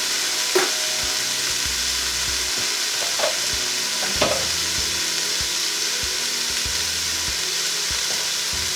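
Drained black beans and chickpeas sizzle in a hot pan of red cabbage stir-fry, with a steady close frying hiss and a few sharp clacks and scrapes from stirring.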